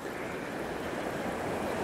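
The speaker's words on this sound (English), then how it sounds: "the water's still rising. It's still slowly coming up the bank here." Floodwater of the Bombala River rising up the bank, a continuous broadband rush and churn of moving water with some wind noise, steady and fairly close, with no talking.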